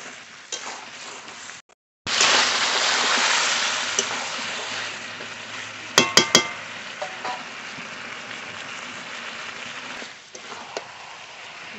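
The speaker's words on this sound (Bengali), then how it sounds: "মাংস থেকে জলও ছেড়ে দিয়েছে, এবার আর একটু কষিয়ে নেব।" Chicken meat stir-fried in a pan, a broad steady sizzle that starts abruptly after a brief gap, with a few sharp metallic clicks partway through and a fade near the end.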